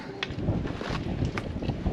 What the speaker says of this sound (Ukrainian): щось мені цей вітер не нравиться